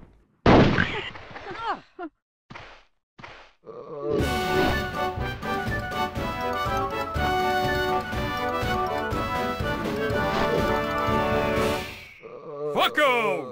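Sharp gunshots and booming blasts in the game Hogs of War, at first in separate bursts, then a long dense barrage that cuts off and resumes briefly.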